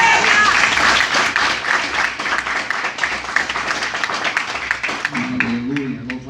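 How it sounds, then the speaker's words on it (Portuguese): A church congregation at a family service applauds after a scripture reading, a sustained wash of many hands clapping that tapers off as a voice comes in at the end. "Aplauda o Senhor por esta palavra."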